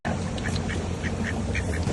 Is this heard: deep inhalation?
no